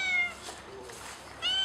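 A cat meows twice, softly and a short way off, once at the start and again near the end, with a hushed background in between and no talking.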